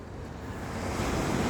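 Sea waves wash onto Konyaaltı beach in Antalya in a soft, steady surf that swells slightly louder for a moment, with faint wind and no voices.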